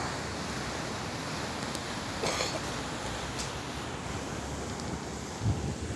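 High, rough sea waves at Alexandria, Egypt, wash in a steady broad roar, fairly distant, with wind noise on the microphone and a few faint brief knocks, no talk.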